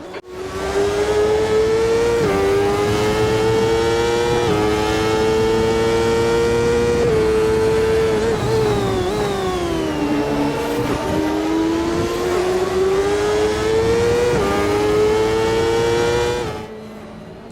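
A CART-style race car engine in the Automobilista racing game drones loud and close for about sixteen seconds, pitch dipping and climbing through several gear shifts before cutting off, with no talk.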